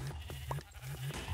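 Sheep bleat repeatedly in a video game, a string of short, near, fairly loud calls in an even rhythm with no talk over them.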